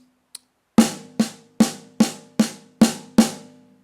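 A drum kit plays a six-stroke roll as triplets: a faint tap, then seven sharp, evenly spaced strokes close and loud, each with a bright ringing decay, no voices over it.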